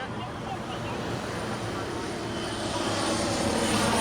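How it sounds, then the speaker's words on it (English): A fixed-wing airplane comes in to land at St Maarten, its engine roar a loud, steady drone that swells slightly toward the end, heard from a crowded spot nearby with voices mixed in. "let's see a plane land. Here it comes."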